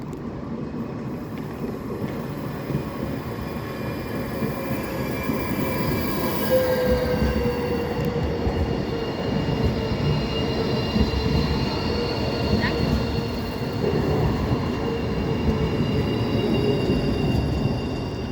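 A train rolls past on the rails under overhead electric wires, making a continuous loud rumble of wheels with faint squealing tones drifting through, steady and close for the whole stretch.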